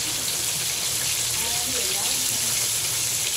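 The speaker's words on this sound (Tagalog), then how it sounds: "Simpleng preto. Ayan, preto na isda." Fish frying in oil in a pan, with a steady, dense sizzle filling the whole stretch and no speech over it, while rain falls outside.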